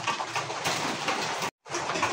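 Pigeons coo at a pigeon farm selling birds, a steady close chorus of soft burbling calls broken by one very short gap.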